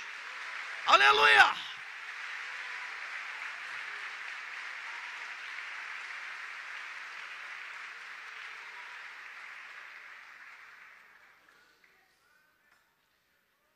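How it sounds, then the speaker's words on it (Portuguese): A church congregation applauds loudly, starting right after a short shouted exclamation. The clapping then runs as a steady, dense wash for about ten seconds before fading out. "Quem pode aplaudir bem forte o nome de Jesus?"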